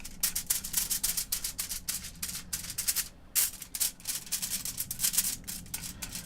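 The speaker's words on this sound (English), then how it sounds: "Gotta love the rattling tin foil noise" Tin foil crinkles and rattles in quick, irregular bursts up close while two-part epoxy is mixed on it, with one brief pause in the middle.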